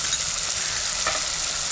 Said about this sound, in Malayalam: പൊടികളെല്ലാം കുറച്ച് വെള്ളത്തിലൊന്ന് മിക്സ് ചെയ്തിട്ട് ഇതുപോലെ ഇട്ട് കൊടുക്കാം.